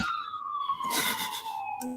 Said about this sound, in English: No, that's an ambulance. That's not a cop car.